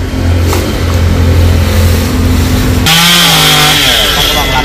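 A chainsaw runs loudly close by, engine droning and then revving higher as it bites into a betel palm trunk, steady and harsh throughout.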